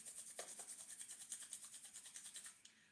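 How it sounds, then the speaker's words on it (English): Two hands rub briskly together during breathing practice, making a quick, even, rhythmic swishing friction close to the ear. It is quiet and steady for about three seconds, then fades. "rub your hands together"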